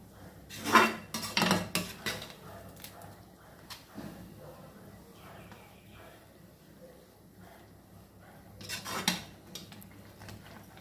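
Carrot halwa being stirred in a pot, with metal utensil clanks and scrapes against cookware, several sharp knocks near the start and again near the end, and soft scraping in between.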